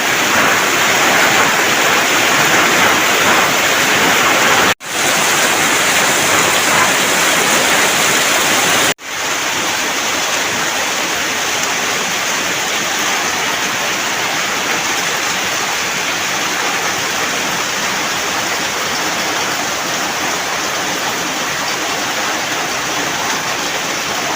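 Dense, loud hiss of heavy rain pouring down without letup over flooded rice fields, a steady wash of water noise with two brief dropouts.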